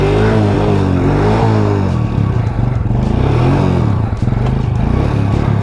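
A quad ATV engine revs hard up close, loud throttle blips rising and falling with some clatter and scraping over a continuous roar.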